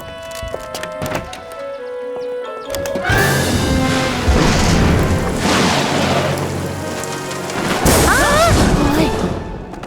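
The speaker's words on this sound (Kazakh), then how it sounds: "Күн күркіреу деген қатты дыбыс қана, одан қорықпай-ақ қой." A loud, rumbling thunderclap rolls in after a quiet opening, with heavy rain-like noise and a brief voice near the end.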